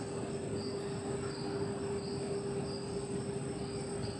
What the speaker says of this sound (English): fake chirping, fake cricket chirping.